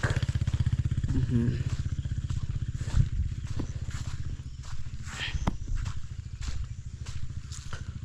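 A Tanzanian motorbike engine putters steadily nearby, loud at first and then easing somewhat, with faint knocks and scattered sounds around it.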